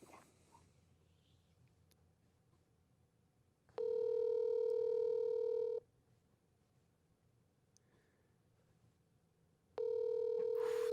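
Two rings of a phone call to a California business line, each a steady electronic tone about two seconds long, separated by a few seconds of quiet room noise.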